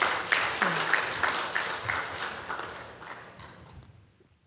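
Scattered applause from a church congregation during a missionary's testimony talk, moderately close with distinct claps and a murmuring crowd, gradually thinning and fading out by the end.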